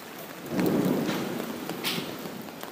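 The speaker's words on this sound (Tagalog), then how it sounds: "At sa di inaasahan, bumuhos ang ulan." Steady heavy rain pours down outdoors at Hulugan Falls, Luisiana, Laguna, with low rumbling thunder building underneath, a few sharper drips and splashes close by.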